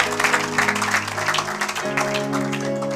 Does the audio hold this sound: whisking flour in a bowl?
no